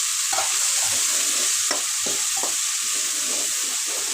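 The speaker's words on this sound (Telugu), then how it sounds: "అలాగే టమాటా కూడా వేస్తున్నాం" Tomato pieces go into a pan of sizzling chicken curry, with a steady loud frying hiss and several soft thuds and stirring scrapes over about four seconds.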